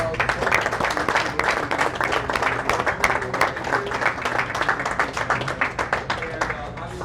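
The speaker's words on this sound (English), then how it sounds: "please give them a huge round of applause" At a professional senior bowling tournament, an audience claps steadily for the event hosts, producing a dense, even patter of hands that carries on throughout at moderate loudness.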